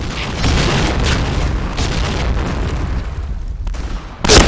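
A grenade blows up in a shooting video game, a loud, sustained broadband boom that rumbles steadily for several seconds before a sharp burst near the end.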